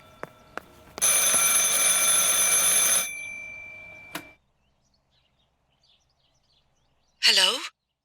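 An old landline telephone rings in the horror game Martha Is Dead, a loud harsh bell burst lasting about two seconds, then a short tap and a brief sweeping tone after a pause; no speech.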